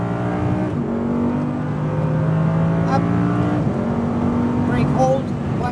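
An Audi R8 V10 RWD engine revs loudly and steadily on a race track, its pitch climbing and shifting through gears, with a driving coach's voice talking over it.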